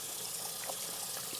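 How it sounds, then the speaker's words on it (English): Cold tap water runs steadily as bleached clothing is rinsed, a constant close splashing hiss with faint shifting bursts and no voices. "then I'm gonna rinse it with cold water to stop the bleaching process"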